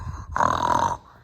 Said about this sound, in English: Man, he snores crazy.